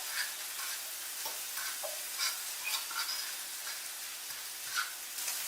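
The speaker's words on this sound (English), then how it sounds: "just kind of frying the corn" Corn with a little taco seasoning sizzles softly in a pan while being stirred, a steady quiet crackle broken by occasional scraping stir strokes, close and without talk.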